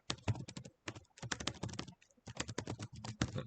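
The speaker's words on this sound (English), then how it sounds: "Now I can just keep typing." Fast, close keystrokes on a computer keyboard come in dense clattering bursts separated by brief pauses, loud and alone with no voices.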